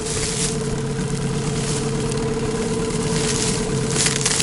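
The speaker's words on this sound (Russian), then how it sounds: "мотор на ходу" A small boat's outboard motor idles steadily with a low, even hum and a constant tonal drone, running alone without any change in pitch.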